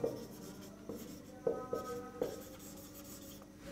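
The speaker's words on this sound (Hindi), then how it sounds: "चलिए इस चीज को लिख देते हैं।" Writing on a board during a Class 10 lesson on electric circuits: a handful of short scratchy strokes land at an uneven pace, close and fairly quiet, with no talking.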